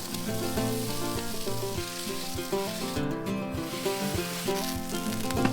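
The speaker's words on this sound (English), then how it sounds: "Those steaks are cooking beautifully." Steaks sizzle in butter alongside shallots and asparagus in a pan, a steady close-up crackle and hiss with a constant frying texture, heard beneath background music and without talking.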